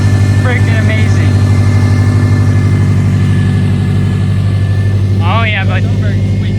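A Subaru WRX fitted with a swapped EJ20X engine idles loudly and steadily up close, its low rumble continuous throughout, with brief vocal sounds over it.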